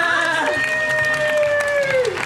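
Children at an outdoor eco science performance clap and cheer in a busy, continuous wash. A drawn-out, sliding voice carries over the crowd noise.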